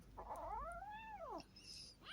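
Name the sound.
angry cats fighting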